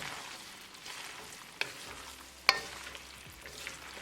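Shrimp and gemelli pasta in marinara sauce with parmesan being stirred in a pan, a soft steady sizzle with a couple of sharp utensil clinks against the pan, close and fairly quiet with no talking.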